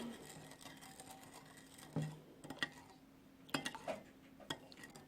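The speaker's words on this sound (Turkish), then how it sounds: "Şöyle kaşık ile karıştırıyoruz. Şekeri erimesini sağlayacağız." A metal spoon stirs sugar syrup in a pot for a Turkish hira dessert, giving light irregular clinks and taps against the pan over a low background hum.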